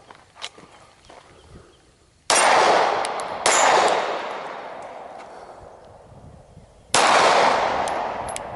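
Three loud, sharp pistol shots from a Glock 17 firing training ammo at steel targets outdoors, each ringing off with a metallic clang that slowly decays, spaced unevenly apart after a quiet start.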